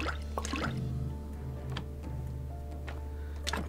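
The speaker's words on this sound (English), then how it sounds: "Let's get a little bit more water before doing this." Water is drawn in the video game Graveyard Keeper: short wet drips and sloshing squishes come in a few separate bursts over a low steady background hum.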